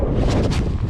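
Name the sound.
wind blowing at a bridge while fishing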